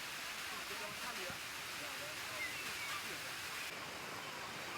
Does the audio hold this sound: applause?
no